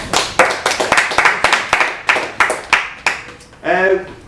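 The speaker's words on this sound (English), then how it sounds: "Give him a little round of applause." A round of applause: steady rhythmic clapping from a small group, fairly close, ending as a voice begins speaking.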